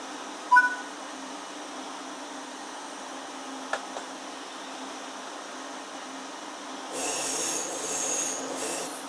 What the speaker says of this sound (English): Let's take a look now while this train is in motion.